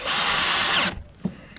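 A power drill whirs loudly and steadily for under a second, then cuts out, leaving a quiet workshop room with a faint knock, during work on a canopy setup.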